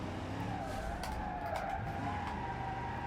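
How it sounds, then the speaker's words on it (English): Power slide in the BeamNG.drive video game, a car skidding with tires squealing over a steady engine drone, loud and sustained for about three seconds. "the van really helped us with the power slide there"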